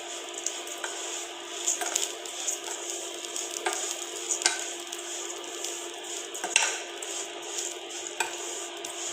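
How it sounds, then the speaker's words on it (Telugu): Semiya (vermicelli) frying on a low flame, a steady soft sizzle with occasional stirring scrapes and light taps of a spoon against the pan, close and continuous with no talking. "చాలా లో ఫ్లేమ్లో పెట్టి వేయించుకోవాలి"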